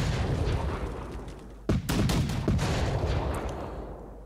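Cannon fire in the Napoleonic-era strategy game Victory and Glory 1800: a dense, rumbling battle din broken by a few sharp, booming shots close together, loud and without talk.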